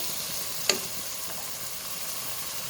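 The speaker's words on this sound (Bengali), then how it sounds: "আমার মশলাগুলো কষানো হয়ে গেছে কত সুন্দর হয়েছে মশলা কষানো কালারগুলো" Spices frying for a beef curry in a pan, a soft steady sizzle underneath with one brief sharp clink or stir sound early on, otherwise a quiet even hiss.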